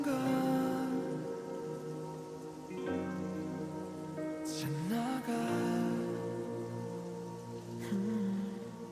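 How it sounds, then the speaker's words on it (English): Soft steady rain and pattering raindrops fall at the end of a song, a gentle hiss mixed with lingering sustained musical tones that fade slowly. "The lyrics state that the rain comes and we hear raindrops as well."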